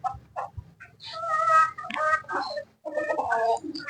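Several chickens cluck and squawk close by in irregular bursts at feeding on a rooftop, some louder calls rising over the busy, overlapping chatter of the flock.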